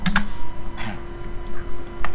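Scattered keystrokes on a computer keyboard, a few close, crisp clicks in an irregular rhythm against a faint steady hum, with no talk.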